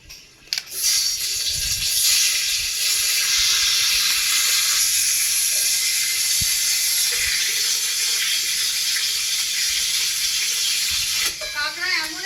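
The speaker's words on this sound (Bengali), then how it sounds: "তেল গরম হয়ে গেছে কাঁকড়া ভেজে নেবো" Crab pieces seasoned with salt and turmeric go into hot oil, setting off a loud, dense hiss that rises within the first second and holds steady for about ten seconds before easing, with a few faint knocks.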